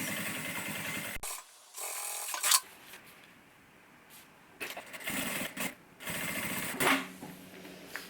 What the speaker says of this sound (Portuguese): costurei os dois lados